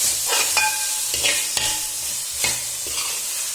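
Finely chopped tomatoes being stirred and sautéed in a pan for crab curry, with a continuous sizzle and several rhythmic spoon scrapes and knocks against the pan, close up, no voices.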